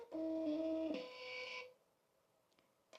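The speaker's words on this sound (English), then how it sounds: "I'm just going to do a simple label that says rose petals, and then I'm going to print it." A Munbyn FM266 label printer runs off a single label: a steady whirring, pitched feed motor for about a second and a half, close and fairly loud, then it stops, leaving faint room noise and a couple of small ticks.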